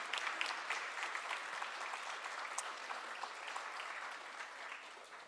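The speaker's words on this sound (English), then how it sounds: "please give them a round of applause." Sustained applause from a seated audience at an ACLU of Montana 50th anniversary celebration, honoring staff and board members; steady, dense clapping throughout with no speech over it.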